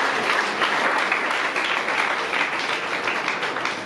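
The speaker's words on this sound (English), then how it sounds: "Clap for them." Audience at a grand finale of an inter-schools debate competition breaks into steady applause, dense, sustained clapping throughout, loud and fairly close, with no clear speech over it.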